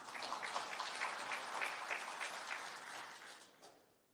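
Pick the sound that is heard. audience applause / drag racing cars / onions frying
audience applause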